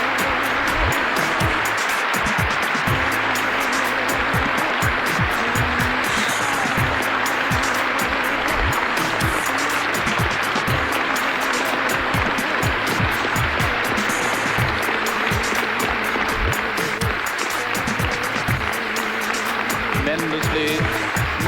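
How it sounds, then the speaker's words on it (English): A large audience at the Cambridge Union debating society gives James Baldwin a standing ovation, dense continuous clapping that fills the hall loudly and without pause for over twenty seconds. "the whole of the Union standing and applauding this magnificent speech of James Baldwin"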